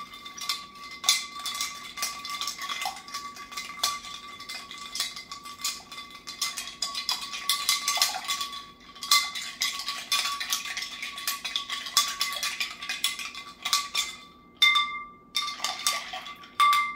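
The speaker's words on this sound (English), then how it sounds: "Give that a stir." A spoon stirs a RumChata drink in a glass, giving a continuous run of bright clinks and ringing taps that pauses briefly a few times, with no speech.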